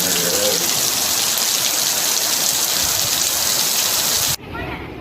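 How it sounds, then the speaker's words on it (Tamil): Heavy rain pours over coastal villages of Mayiladuthurai district, a dense, loud, continuous hiss that cuts off abruptly near the end. "மயிலாடுதுறை மாவட்டத்தின் கடலோர கிராமங்களில் பரவலாக கனமழை பெய்தது."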